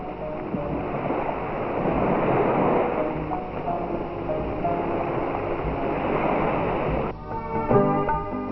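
Ocean waves wash onto a sea beach in Bali, a steady broad rushing surf with wind, fairly loud and continuous, before a music-like tonal passage enters near the end.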